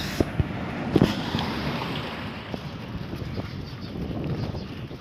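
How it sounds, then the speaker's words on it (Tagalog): Strong wind roars and buffets a nearby microphone in a constant rumbling gust, with a few sharp knocks near the start. "Lakas ng hangin."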